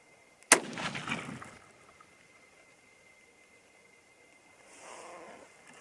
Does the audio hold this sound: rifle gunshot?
yes